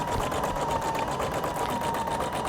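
A Husqvarna Viking Designer Brilliance 80 sewing machine stitches an embroidery design, giving a continuous fast, even mechanical whir with rapid needle pulsing, close and steady throughout.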